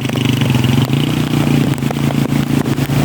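Motorcycle engine idling and revving steadily while wading through floodwater in Montalbán, with loud continuous mechanical rumble and occasional clattering knocks throughout.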